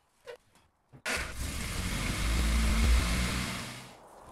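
An MG Midget engine is started after a couple of faint clicks. It catches abruptly and settles into a steady, close idle rumble that swells slightly before easing off near the end.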